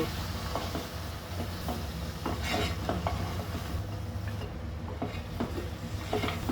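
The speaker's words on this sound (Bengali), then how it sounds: "ভালোভাবে নেড়ে চেড়ে নেব" Dried fish curry with vegetables being stirred in a pot, a dense continuous frying hiss with repeated scraping and spoon knocks, close and fairly loud.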